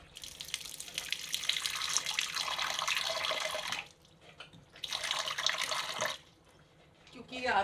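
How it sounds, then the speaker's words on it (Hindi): Water pours into a cooking pot of simmering raw mango mixture in two long splashing streams separated by short pauses, close and loud, with a brief rattle at the end. "इसमें थोड़ा पानी और जाएगा"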